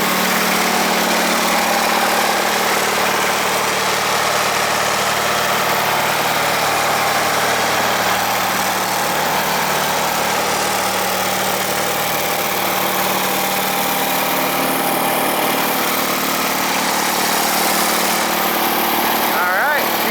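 A Bolens GroundsKeeper tractor engine runs steadily after a cold start, a loud, even mid-pitched drone close by for the whole stretch, with a person talking over it.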